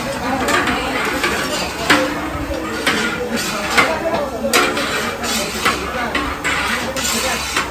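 Food is stirred in a metal pot at a temple in Kopargaon, with repeated scraping and clinking of a utensil against the pot, irregular strokes over a faint sizzle, while people talk nearby.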